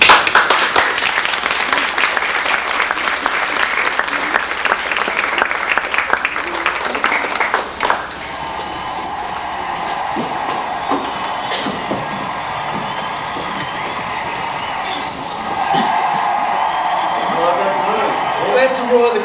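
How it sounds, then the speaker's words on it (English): A huge boxing-match crowd of about 9,000 roars and applauds in a dense, loud, continuous wash of noise that dips briefly midway and then swells again, with voices mixed into the din. "That's the roar of the crowd."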